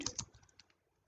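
Keys clatter on a computer keyboard in a quick run of close, quiet clicks, the first few strokes loudest and the rest fading off.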